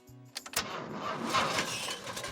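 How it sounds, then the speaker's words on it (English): A cartoon car engine cranks and catches after a few clicks, then runs with a steady rough rumble that stays fairly loud to the end, with no talking. "Now, try the engine again."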